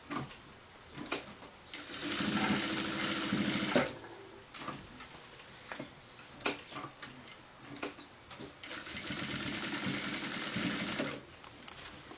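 A sewing machine stitches a 5 cm strip of cut fabric folded in half, running in two long loud bursts with short starts and stops and clicking handling sounds between them.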